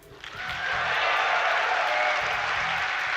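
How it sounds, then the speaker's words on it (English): A crowd at a StarCraft tournament at Dreamhack Winter roars and cheers in a steady, dense wash of noise that builds quickly and then holds loud and unbroken, with no clear voices on top. "You can hear the crowd so excited to root for another Swede"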